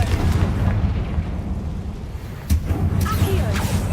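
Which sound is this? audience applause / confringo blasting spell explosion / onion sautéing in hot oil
confringo blasting spell explosion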